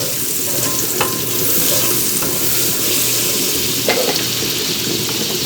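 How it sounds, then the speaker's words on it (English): Unsalted butter sizzles steadily in a skillet while being stirred, a close, continuous frying hiss with faint scraping taps. "That's that unsalted butter right there. Get it moved around in our skillet."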